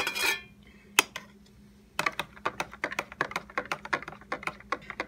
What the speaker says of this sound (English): what we need to do is give it a stir